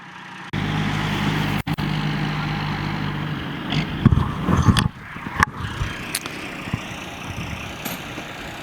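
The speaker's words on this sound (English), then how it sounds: "the John C. Rice House is hooked up to this Kenworth rig, and we're going to go ahead and move it forward" A Kenworth truck rig hauling the roughly 60-ton John C. Rice House rumbles at a low steady idle, then gives a burst of louder engine and scraping clatter before settling into a quieter rumble with scattered knocks.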